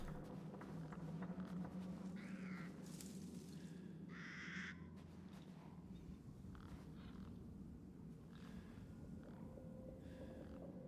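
Crows caw in the forest of the video game Resident Evil Village, harsh calls repeating over a steady ambient bed, moderately near and clear with no talk.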